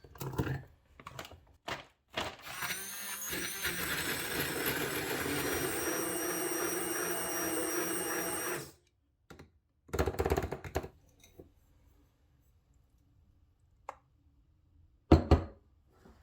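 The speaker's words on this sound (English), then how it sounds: "If you have a regular blender, use that." A regular blender whirs through a cherry vanilla protein shake with berry mix, a loud sustained motor roar for about six seconds after a few short bursts and clatter, then scattered clicks and handling noises.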